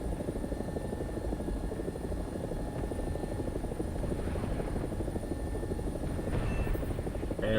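An AB 205 helicopter in a combat video game produces a constant, loud rotor chop and turbine hum, steady and near throughout with faint background game effects and no voices.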